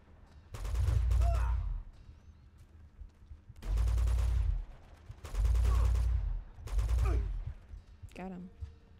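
Heavy automatic gunfire in Uncharted 2: Among Thieves, four loud sustained bursts of rapid shooting separated by short pauses, with faint game sounds between and a brief call near the end.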